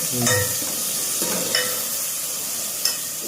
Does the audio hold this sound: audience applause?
no